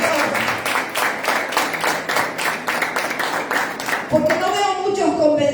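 A church congregation bursts into loud, steady clapping and applause for about four seconds, then it fades as a voice begins speaking over the dying claps.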